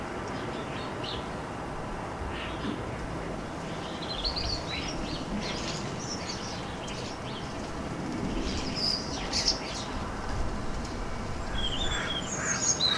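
A flock of starlings scattered through bushes, keeping up a busy, continuous chatter of chirps, whistles and squeaky calls over a steady outdoor background, growing livelier toward the end.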